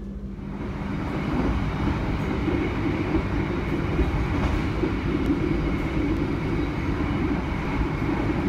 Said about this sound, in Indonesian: kereta api ini akan dipacu hingga kecepatan tinggi